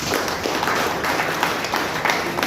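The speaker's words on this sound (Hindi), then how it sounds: "ये एक ऐसा प्रोडक्ट मैं चाहूँगा इसके लिए जोरदार तालियां होंगे," Applause from an audience at a product presentation, with many hands clapping in a steady, moderately loud rattle that continues evenly across the short span and has no voice over it.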